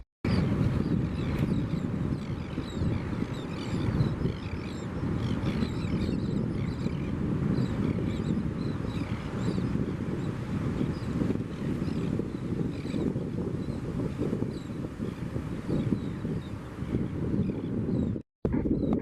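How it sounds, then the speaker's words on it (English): Steady northeasterly wind gusting across the St Lucia estuary during a washover, a constant broad rumble of wind buffeting the microphone, with no talk and a brief dropout near the end. "the northeaster is blowing"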